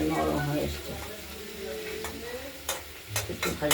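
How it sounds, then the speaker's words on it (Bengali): Chopped spring onions fry in mustard oil in a wok as they are stirred. A close, continuous sizzle comes with scraping spoon strokes and light clicks, and a voice talks over part of it. "পেঁয়াজ কলিটা আবার ঢাকনা খুলে নেড়ে দিলাম"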